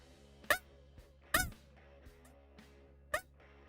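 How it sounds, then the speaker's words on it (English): A hand-blown crow call gives three short, raspy caws at uneven intervals, close and fairly loud over a low steady background hum. "Blow the crow call again."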